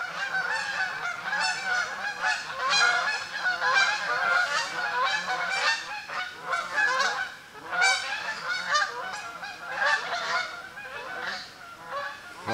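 A flock of geese flies low overhead in the woods, many loud honks overlapping continuously and close, with a constant clamor of calls throughout.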